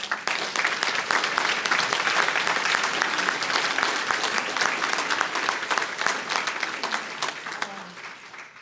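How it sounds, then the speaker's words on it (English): Sustained audience applause at a public meeting on homelessness in Wilmington, North Carolina, dense and steady for most of the stretch before thinning slightly near the end, with some faint voices mixed in. "Can we give a round of applause?"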